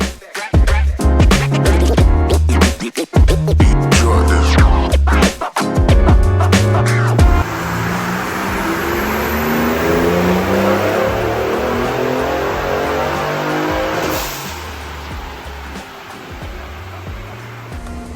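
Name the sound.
2019 Ford Raptor with GT750 turbo kit revving during dyno pull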